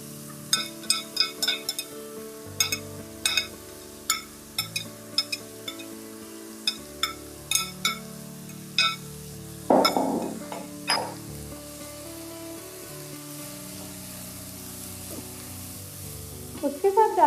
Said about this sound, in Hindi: चिकन हमारा हल्का सा फ्राई हो चुका है। अब हम इसमें डालेंगे प्याज